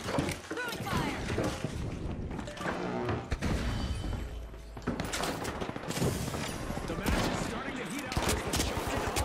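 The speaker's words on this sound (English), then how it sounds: "Frag grenade out! Move! Frag incoming!" Dense, chaotic combat audio from The Finals video game, with loud gunfire and crashing blasts including frag grenade explosions, constant and close, mixed with shouted game voice lines throughout.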